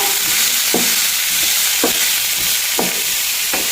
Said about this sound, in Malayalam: പിന്നെ മല്ലിയില പിന്നെ നമുക്കിതൊന്ന് ഇളക്കി കൊടുക്കാം